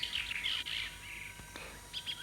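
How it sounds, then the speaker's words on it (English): Common blackbird singing in a British dawn-chorus setting, with bright, fluting warbled phrases that repeat in quick bursts close by, with short pauses between them. "Its voice is usually the main sound heard in the dawn chorus, and its mellow fluting is one of the most beautiful bird songs"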